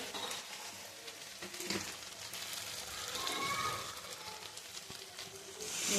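Chili chicken sizzles and crackles as it is stir-fried in a hot pan, a continuous close-up frying hiss with occasional stirring, swelling louder near the end.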